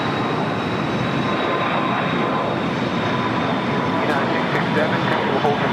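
An airliner on flight 1260 to Denver rumbles at LAX with a dense, constant jet roar, loud and unbroken, while voices talk over it.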